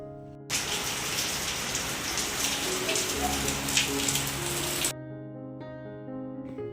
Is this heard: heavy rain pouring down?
yes